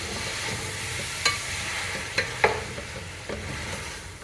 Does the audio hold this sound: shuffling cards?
no